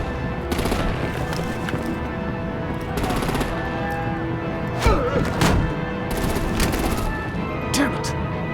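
Rapid gunfire and artillery bursts in the Batman: The Enemy Within Episode 2 video game, sustained machine-gun-like volleys with heavier thuds, dense game music and effects underneath, a voice talking briefly.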